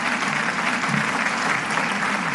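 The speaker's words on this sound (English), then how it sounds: "Let us give another round of applause 다시 한번 to His Excellency Mike Pence, former Vice President of the United States." A rally crowd gives another round of applause honoring former US Vice President Mike Pence, a continuous, even wash of clapping throughout at steady volume.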